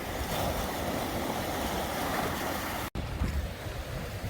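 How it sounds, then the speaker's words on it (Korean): Sea waves wash against a rocky shore in steady rushing surf, broad and close, with heavy wind buffeting the microphone and one brief dropout near the end; no one speaks. "서 보니까 그래도 파도가 좀 있습니다."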